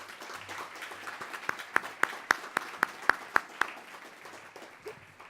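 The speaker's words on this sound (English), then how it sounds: "Please give these welcomers a round of applause." A sparse round of audience applause at a community event, with a few distinct sharp claps standing out in a regular rhythm over a thin, fairly quiet background of clapping that fades toward the end.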